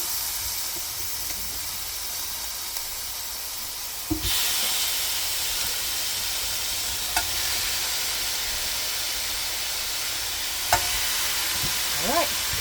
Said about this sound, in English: I'm going to go ahead and put the pineapple skewers on.